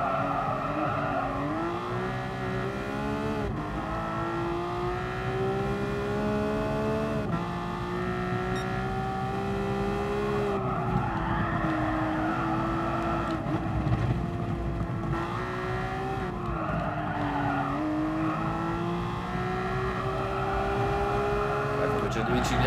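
A Porsche 911 GT3 RS races in Gran Turismo Sport, its engine note rising and falling through gear changes and throttle blips, continuous and fairly strong, with a commentator talking over it.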